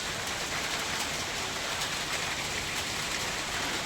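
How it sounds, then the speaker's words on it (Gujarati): Light rain falls in an even, steady patter, a soft continuous hiss of drops on surfaces with no voices over it. "થોડો વરસાદ ચાલુ હો"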